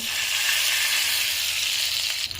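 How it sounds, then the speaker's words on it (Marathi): Hot oil tempering of cumin, mustard seeds, asafoetida and curry leaves sizzles steadily and loudly over tomato chutney, a dense continuous hiss with no voices, easing slightly near the end. "हा तडका आपण चटणीवर टाकू."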